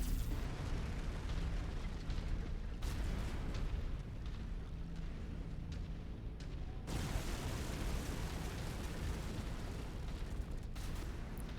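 Continuous rumbling explosions and blasts from a MechWarrior 5 battle as a building is destroyed, a dense, roaring wash with a sharp new burst partway through, no voices.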